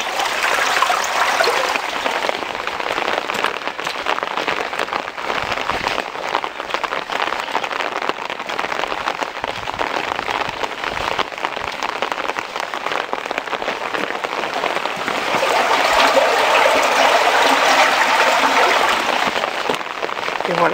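Irrigation water rushes through a completely full channel at a diversion near Prades/Lalevade, a steady, loud, broadband roar with no pauses across the whole stretch, swelling slightly toward the end.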